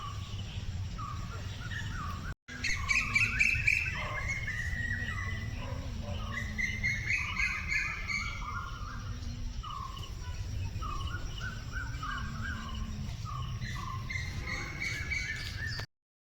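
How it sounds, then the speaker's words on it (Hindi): Small birds chirp and call repeatedly outdoors in sunshine, bright scattered tweets over a steady hum of insects and a low rumbling background, with no talking. "अब चिड़ियों की आवाज़ सुन सकते हैं"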